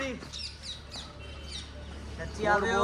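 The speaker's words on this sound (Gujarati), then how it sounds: "મોર મોર મોર મોર મોર મોર" A peacock gives a few wailing cries among other bird chirps, partly under a person talking nearby.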